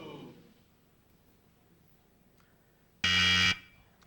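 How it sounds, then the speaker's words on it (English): A loud, flat electronic game show buzzer blares for about half a second after a quiet stretch, harsh and rich in overtones. "That buzzer means John Lovitz."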